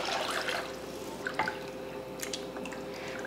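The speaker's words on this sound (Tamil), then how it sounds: "அதில் 2 படி தண்ணி சேர்த்துடலாம்." Water going into a cooking pot holding masala for a rice dish, heard as soft, close drips and splashes against a quiet room with no talking.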